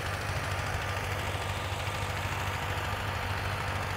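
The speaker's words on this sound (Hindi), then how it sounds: "यहाँ दो ट्रैक्टर आपको देखने को मिलेंगे जो इस समय खेत की जुताई करने में लगे हुए हैं।" Two tractors plough a sugarcane field, their diesel engines giving a steady low rumbling drone without pause, fairly loud and continuous throughout.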